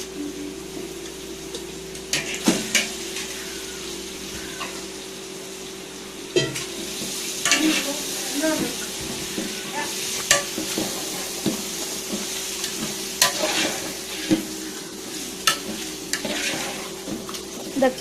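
Goat meat frying with onion masala for a large batch of biryani, stirred with a ladle: a steady sizzle under repeated scraping strokes and clinks, close and fairly loud, with no talk.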